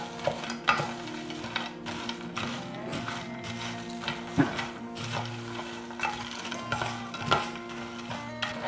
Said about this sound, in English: I'm just going to stir this all around with my sauce to get it all absorbed into the cereal and the pretzels